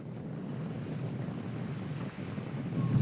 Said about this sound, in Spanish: A él le gusta el mar agitado, como el de hoy.